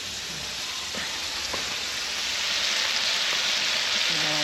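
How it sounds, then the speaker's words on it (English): Steaks and mushrooms sizzle steadily in a hot pan, a close, continuous crackling hiss with a few faint clinks, no talking. "He's got the steaks on. some mushrooms. Yeah, sizzling away nice."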